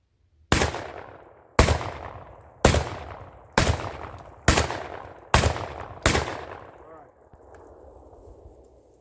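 Panzer EG200 shotgun firing seven Federal buckshot mixed loads, seven loud, sharp blasts spaced about a second apart, each with a short echoing decay, followed by quieter handling noise.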